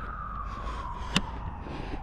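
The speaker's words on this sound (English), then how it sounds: "The ambulance isn't for me" An ambulance siren wails faintly in the distance, its steady tone sliding slowly lower as it passes, under street noise with one sharp click partway through.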